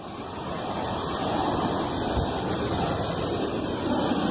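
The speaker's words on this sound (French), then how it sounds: "La vapeur jaillit avec un gaz appelé dioxyde de soufre." Steam and sulfur dioxide vent from fumaroles on Vesuvius, a broad, steady rushing hiss mixed with wind buffeting, moderately loud and unbroken.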